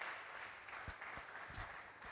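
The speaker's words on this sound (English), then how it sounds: "Let's give him a round of applause, please." A room of people claps at a community engagement event for a provost election, steady applause heard at moderate distance with a few stronger claps standing out.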